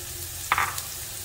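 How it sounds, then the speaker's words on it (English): Carrot pieces drop into a hot pan on high flame for vegetable Maggi noodles, a short sharp burst of sizzling that fades within a fraction of a second. "So just add all your veggies. Carrot first"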